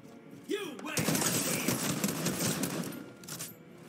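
Video game gunfire in a loot-only match: a burst of rapid shots and clatter lasting a few seconds, moderately loud against background game sounds.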